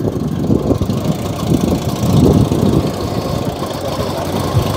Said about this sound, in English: Listen to that noise. Single cylinder engine.